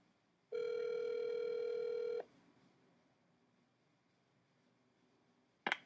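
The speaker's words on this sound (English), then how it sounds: "Dialing is once again complete." A telephone line gives one steady tone of roughly a second and a half on a live call-in show, then near silence and a brief click or ring burst at the end.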